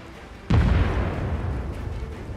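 A big bomb in the video game Far Cry 6 goes off with a sudden loud boom, followed by a long rumbling roar that slowly fades.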